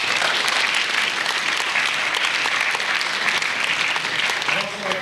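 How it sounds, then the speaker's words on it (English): School audience applauding fall sports teams, dense, sustained clapping filling the room at steady loudness before tapering slightly at the end. "So let's give them one more big round of applause."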